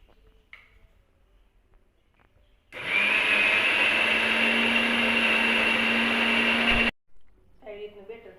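A kitchen mixer grinds rice and urad dal into dosa batter with a loud, steady motor whir for about four seconds. It starts and stops abruptly, with quiet speech before and after.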